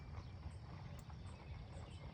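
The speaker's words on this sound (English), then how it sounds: "mainly just a parade of horses calmly crossing the fields" Horses walk calmly across fields in Amish country, their hooves giving a steady, continuous clip-clop over a broad outdoor wash of low noise.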